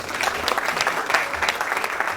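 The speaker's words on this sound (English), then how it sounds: "Another round of applause, please." Enthusiastic audience applause at a dentistry faculty ceremony at a college of health sciences, loud, dense clapping from a large crowd sustained for the whole moment.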